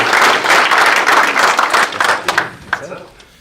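Applause from an audience at a real estate investing talk for a man named Greg, a loud clapping burst that thins to scattered claps and fades out.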